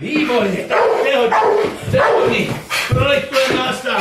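A pet dog barks repeatedly in sharp bursts close by, mixed in with someone talking and praising it in Czech over the barks.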